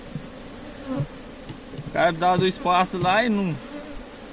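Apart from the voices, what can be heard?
bee swarm buzzing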